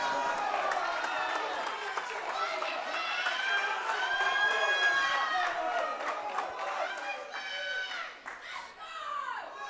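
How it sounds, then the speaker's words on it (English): A crowd at a powerlifting national championship cheers and shouts steadily throughout a heavy 332.5 kg deadlift attempt, while an announcer talks over the noise. "Crowd fired up for it."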